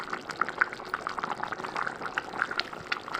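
A pot of country chicken curry bubbling on the stove, a continuous close simmer of popping bubbles and wet gurgles, no talking.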